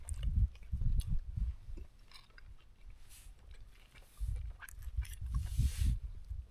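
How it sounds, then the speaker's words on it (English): Someone chews a mouthful of hot, smoky stew outdoors on a Scottish hike, with close, wet, rhythmic chewing in two bursts separated by a quieter pause and faint breezy background. "let's give a bit of this stew a try"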